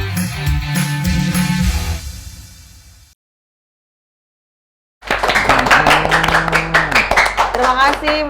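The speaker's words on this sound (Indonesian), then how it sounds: "Masih nyambung tepuk tangan di pojok itu." Dense clapping from a small nearby gathering at a roadside food stall, brisk rapid claps that break off into silence and then resume strongly, with voices talking over them.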